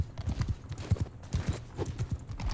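A mount gallops across a Mount and Blade: Bannerlord battlefield, its hoofbeats thudding in quick, regular triplets up close, with faint battle noise around them.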